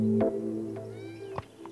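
A cat in the game Mineko's Night Market gives a short meow at the start, followed by quieter faint mews and small chirps over a soft background tone.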